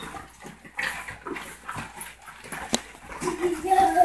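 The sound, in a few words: pit bull dogs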